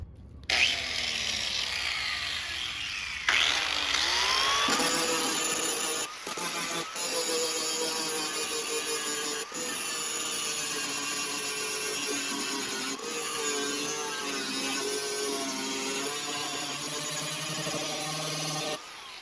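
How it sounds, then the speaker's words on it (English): An angle grinder fitted with a grinding disc grinds spots on an old muffler, a loud, harsh, sustained metallic whine with a few brief interruptions and pitch shifts as the disc bites the steel, heard close throughout. "I'm going to start off by grinding some spots for this with the grinder,"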